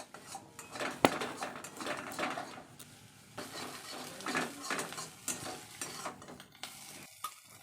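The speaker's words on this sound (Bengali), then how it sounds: "আর দিলাম জিরে, গোটা জিরে আর পেঁয়াজ কুচি, একটু নাড়াচাড়া করে নেব।" Whole cumin and chopped onion frying in oil as a spatula stirs and scrapes the pan, with repeated clinks and a soft sizzle underneath, close by with no voices.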